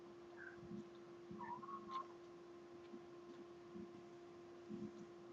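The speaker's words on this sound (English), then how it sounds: "We've got a cat in the background." A cat meows faintly in the background of a quiet indoor room, a couple of short rising cries over a steady electrical hum with a few soft knocks.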